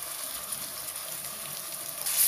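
Ginger garlic paste frying in a pan with onions for haleem gives a soft, steady hiss that holds at a fairly low level, with a brief louder burst at the very end.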